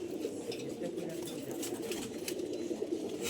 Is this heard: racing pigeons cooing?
yes